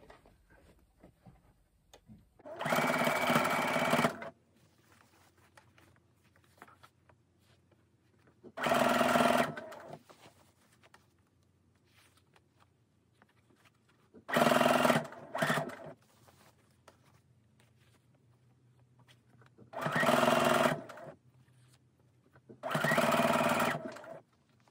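A sewing machine stitches a dress shirt sleeve placket in five separate bursts of steady, close stitching, each a few seconds long, with quiet pauses between them and no talk.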